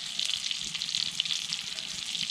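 Gucchi morel mushrooms frying in butter in a pan, a steady close crackling sizzle with faint stirring underneath, no voices.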